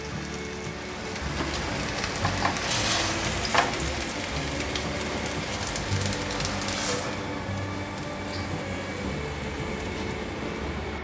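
Tofu pan-frying in oil until golden on both sides, a steady close crackling sizzle that runs throughout with brief louder spatters, no voices.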